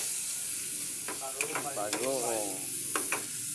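Shrimp paste (alamang) frying in a hot pan, a steady hissing sizzle under a brief stretch of talking.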